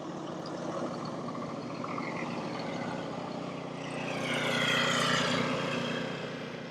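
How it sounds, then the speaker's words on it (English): A food truck's steady engine drone rumbles throughout, growing louder and fuller toward the end as it draws closer, then easing slightly. "Got a food truck coming at me right now. You're going to hear that."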